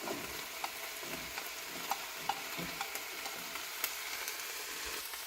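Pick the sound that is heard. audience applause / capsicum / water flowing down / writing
capsicum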